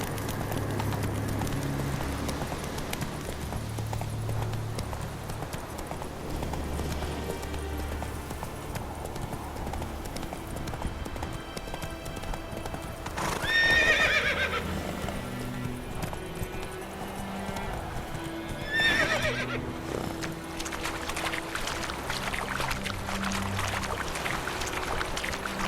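Horse hooves clip-clop steadily at a gallop in The Witcher 3 video game, with a short neigh or snort rising twice above the constant music and hoofbeats.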